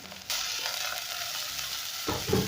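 Kale greens hit a hot pan of translucent onions with a loud, steady sizzle that jumps up sharply near the start, then a rough stirring scrape comes in toward the end.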